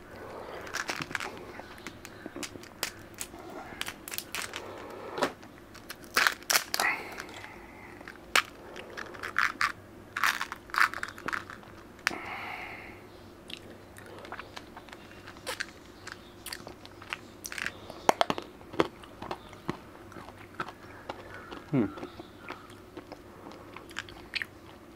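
Red apple Tic Tac mints crunched and chewed up close in a quiet setting, with sharp irregular bites and brittle cracks repeating over a soft background hiss.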